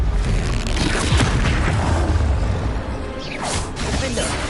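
A Confringo blasting spell erupts in Hogwarts Legacy with a loud, booming explosion and crackling debris, followed by a second whooshing burst near the end.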